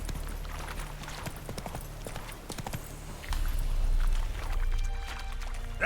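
Roach, a horse in The Witcher 3, gallops in steady rhythmic hoofbeats, clear and fairly close, with a heavier stretch of hooves and rustle toward the end.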